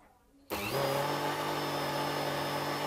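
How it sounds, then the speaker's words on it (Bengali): Chocolate cake batter whirring in a kitchen blender, which kicks in abruptly after a brief quiet moment and then runs loud and steady with a high motor whine. "এটা ব্লেন্ড করে নিচ্ছি যতক্ষণ না পর্যন্ত চিনির দানাগুলো ভালোভাবে গলে যাচ্ছে"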